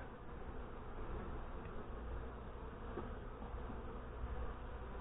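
Honey bees hum steadily in a continuous, close buzzing drone while a hive is opened for a late-September inspection, with no voices heard.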